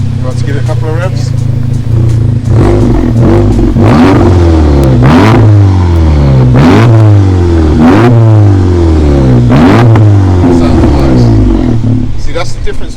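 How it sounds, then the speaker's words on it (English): A VW Golf GTI running an APR stage 2 map revs hard several times in succession, loud and close, the engine note climbing and dropping in rapid repeated sweeps. "You want to give it a couple of revs?"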